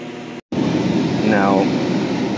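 Fans in a 4-door RLN-4 frozen food display case that has frozen up run with a loud, steady, close whooshing hum that drops out briefly, then resumes, while a person talks over it.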